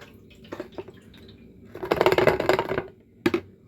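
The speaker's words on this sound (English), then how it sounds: "So we're going to pour that in, see how that does first." Vinegar and detergent liquid poured into an opening on a Honda CD 175 motorcycle, a sustained gurgling splash of about a second between a few light knocks and clinks, close and moderately loud.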